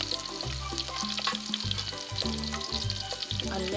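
Onions sizzling as they start to fry in a pot for a traditional village dish, a constant crackling hiss close by, with a hum that keeps shifting beneath it and no talk.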